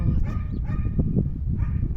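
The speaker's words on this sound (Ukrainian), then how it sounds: "А собака розривається." A dog barks in the distance several times in an irregular run, with a low rumbling background around the barks.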